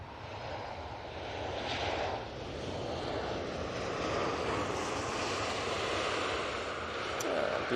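An airliner on final approach to Manchester Airport gives a steady, broad jet rumble with a soft whine that swells slightly as it nears.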